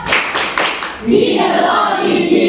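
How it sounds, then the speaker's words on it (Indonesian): A class of schoolchildren joins in a rhythmic clapping chant led by their teacher, claps bunched at first and then giving way to steady chanting voices; loud and close. "Yuk kita lakukan tepuk karena sudah hebat semua"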